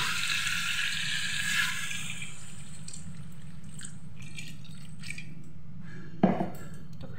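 Water trickles steadily into a pot of partly cooked chicken, a soft continuous pour with a faint clank of the pot near the end.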